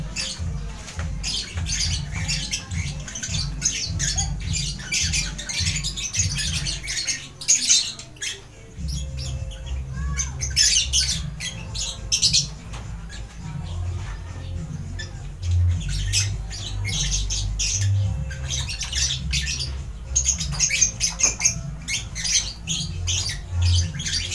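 Pet birds squawk and chatter in scattered bursts over a low background rumble, with occasional soft pattering and fluttering nearby.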